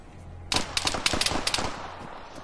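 Enemy gunfire in Arma 3 erupts suddenly: a loud, close burst of rapid rifle and machine-gun shots crackling in quick succession, then fading into a brief echoing tail.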